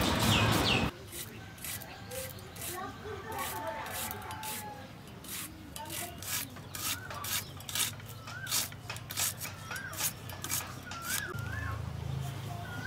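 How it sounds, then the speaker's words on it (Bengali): Onions chopped on a board in a home kitchen, a run of quick, irregular knife taps with a louder clatter at the start, birds chirping faintly in the background. "এবার পেঁয়াজ কুচি করে নেবো আমি।"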